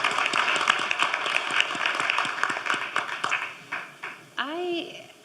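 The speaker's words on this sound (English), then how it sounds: "I think we can also give a round of applause to Midori for moderating, and again to our panelists." Sustained round of applause from a conference audience at a biodiversity finance event, many hands clapping densely and steadily before fading, with a speaking voice entering near the end.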